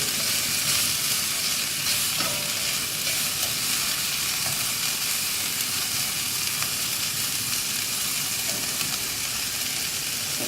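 Carrots, corn and green peas fry in a hot pan and are stirred to dry them out, giving a steady, close sizzle with soft scraping throughout and no talking.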